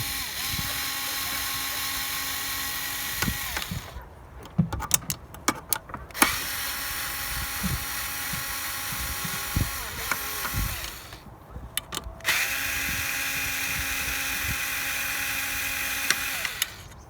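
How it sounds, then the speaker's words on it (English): A car throttle body's bolts are loosened and unscrewed with a power tool, giving whirring bursts separated by pauses filled with clicks and handling noise. "Now I'm gonna loosen those bolts. Now unscrew them."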